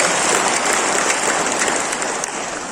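Loud, sustained applause from an audience at a Perikatan Nasional political rally in Sabah, a dense wash of clapping that runs steadily throughout and fades slightly toward the end.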